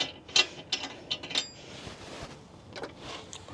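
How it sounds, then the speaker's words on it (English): Clicking and ratcheting of a wrench working a lug nut off the rear wheel hub of a 2019 Toyota RAV4, irregular metallic ticks and rattles, close and fairly quiet, with no talk. "Take our lug nut back off of here."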